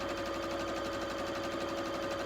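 A sewing machine stitches top and bottom quilt fabric strips held against a quarter-inch guide, giving a steady, quiet, fast mechanical whir throughout with no talk.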